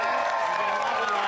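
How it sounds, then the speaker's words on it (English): A studio audience applauds and cheers in a dense, continuous wash of clapping and crowd noise, loud and steady throughout the brief moment. "Big round of applause, too, for the Silver Foxy ladies."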